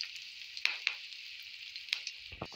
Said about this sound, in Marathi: आपला तवा तापलेला आहे, आपण त्यात लसूण टाकू